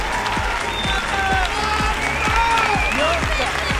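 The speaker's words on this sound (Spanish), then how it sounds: "Fuerte aplauso para él." Audience applause on a Spanish comedy television show, steady loud clapping with a cheering crowd and spoken voices running over it throughout.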